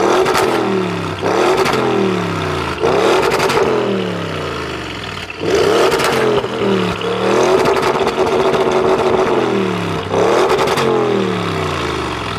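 An Audi S8 Plus D4 limousine's engine revs hard in dynamic mode, several loud accelerating pulls rising in pitch with brief drops between gear changes, close and alone without talk.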